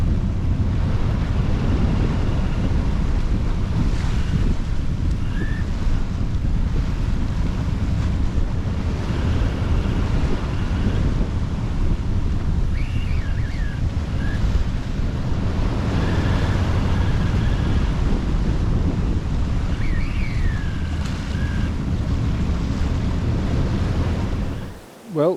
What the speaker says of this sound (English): The sea behind us, bit of surfing